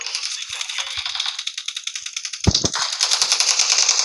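Automatic machine gun fire in a team deathmatch video game: fast, rattling bursts of rapid shots running nearly nonstop, with a heavier thump partway through.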